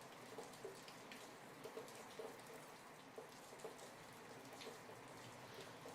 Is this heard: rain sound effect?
yes